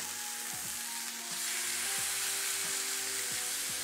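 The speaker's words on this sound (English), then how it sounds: "That's the sizzling that I want to hear for this steak." Steady, hissing sizzle of a rib eye steak frying in a hot pan, close and continuous, with faint clinks in the background.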